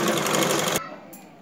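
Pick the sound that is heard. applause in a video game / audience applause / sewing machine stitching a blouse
sewing machine stitching a blouse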